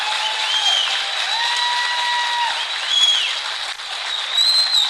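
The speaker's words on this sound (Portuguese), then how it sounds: "Uma salva de palmas ao senador Eduardo Braga." An audience applauds a senator at a public event in Manaus, sustained dense clapping with tonal sounds running through it, fairly loud and continuous.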